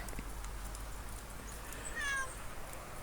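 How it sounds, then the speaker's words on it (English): Indoors during a snowstorm, a single short cat meow sounds faintly, somewhat distant, against a quiet hum. "I hear a cat."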